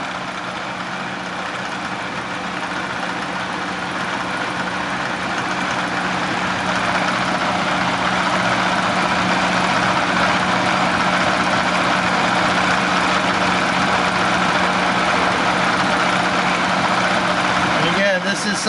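A turbocharged rotary race engine runs steadily at a constant, loud drone with a low buzzing hum throughout, unbroken for the whole stretch.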